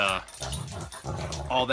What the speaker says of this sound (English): my dogs are sitting right next to me here, playing and kind of horsing around